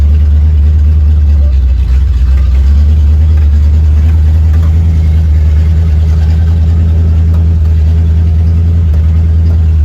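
A 1966 Ford Mustang with a new motor rumbles loudly and steadily on its first drive, a constant low engine drone filling the cabin with faint talk beneath it.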